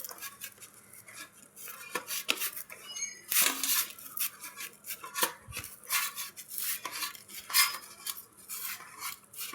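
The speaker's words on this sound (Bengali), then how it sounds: "দেখুন আমি কীভাবে মাখছি, একটু ভালো করে এভাবে ঠেসে মাখতে হবে" Roti dough is kneaded firmly by hand in a plate, giving irregular soft knocks, scrapes and faint clinks close by, with no talking.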